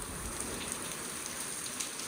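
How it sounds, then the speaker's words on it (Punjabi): Heavy rain pouring down outside before dawn in the dark, a dense, steady hiss of drops drumming on surfaces, continuous and fairly close with no other sounds. "ਲੱਗਦਾ ਖੜਕਾ ਹੀ ਮੀਂਹ ਦਾ ਹੀ"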